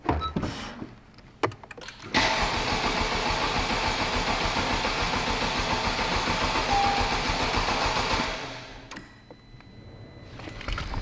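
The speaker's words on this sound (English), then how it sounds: "Lock, unlock, foot on clutch, foot on brake. To start, hold the remote near start button." A 2021 Honda Civic Type R, rebuilt after being totaled, gives a few clicks before its engine catches and runs loudly and steadily for about six seconds, then dies away to quiet.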